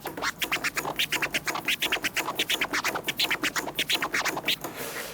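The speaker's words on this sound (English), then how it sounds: "the more you tear it, the more you get the kind of the essence of the prism, which is the sort of wavy sound." Prizm scratch tear performed by a DJ on a turntable record, a fast run of short wavy scratch strokes in a steady rhythm, close and loud with no voices.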